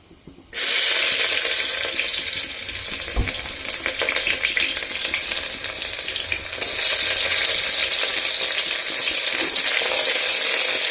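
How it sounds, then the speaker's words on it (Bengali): Onions hit hot oil in a pressure cooker pan, bursting into a loud, dense, continuous sizzle after a brief quiet start, crackling steadily and swelling slightly louder later on, with no talking. "তেলটা গরম হয়ে গেছে, আমি এখানে পেঁয়াজটা দিয়ে দেব।"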